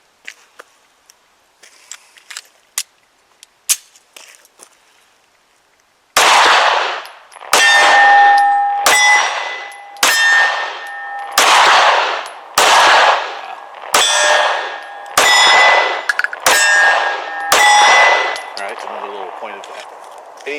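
A SIG P365 pistol fires 115 grain +P full metal jacket hand loads. After several seconds of faint clicks, about ten loud, close shots follow in a steady string, each with a ringing metallic clang trailing behind it.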